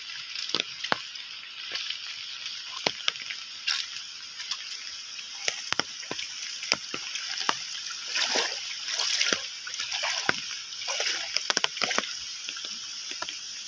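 Floodwater about knee-deep sloshing and trickling across a walking path during a heavy monsoon flood, with small close splashes and a steady wash of water throughout.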